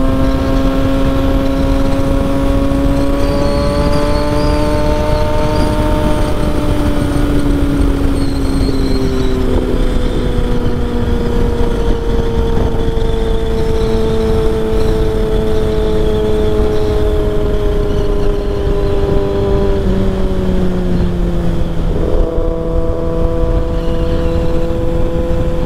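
A Kawasaki ZX6R motorcycle on a ride drones steadily with its engine note slowly rising and falling over wind rush, loud and continuous throughout.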